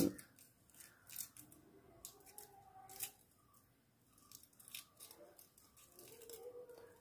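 Foil paper being unwrapped from a hair repairing oil stone, close crinkling and tearing rustles in irregular bursts with soft handling noises, no talking.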